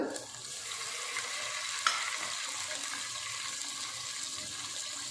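Onions frying in a pan for chicken fry: a steady, close hiss and sizzle of oil, with a brief stir or scrape near the two-second mark and no talking.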